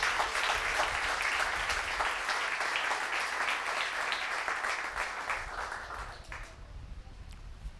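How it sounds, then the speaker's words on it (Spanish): A church congregation at a Sunday service applauds, dense sustained clapping that carries on for several seconds before thinning out and fading near the end. "denle un aplauso al Señor,"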